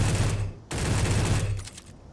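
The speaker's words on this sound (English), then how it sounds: "We have the rapid-fire pistol." Rapid-fire pistol in the Space Engineers video game, fired in two loud sustained bursts of quick shots separated by a brief gap, close and dominant.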